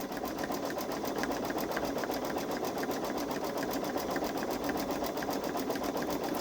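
A Babylock Solaris Vision embroidery machine stitches out a design with a steady, rapid mechanical whirring and clatter that holds at an even level throughout, close by and with no talking.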